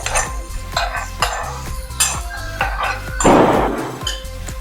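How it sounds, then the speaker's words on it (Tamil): Food is stirred in a pan with repeated scraping strokes of a utensil against the metal, steady and close, with a brief louder burst of sizzle near the end. "இப்போ இதை நல்லா கிண்டிக்கணும்."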